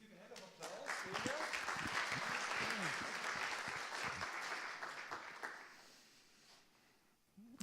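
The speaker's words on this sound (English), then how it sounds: "Let's give a hand of applause." Applause from a conference audience at a medical big-data business talk, a full wash of clapping that swells quickly, holds steady for several seconds and then thins out near the end, with some voices mixed underneath.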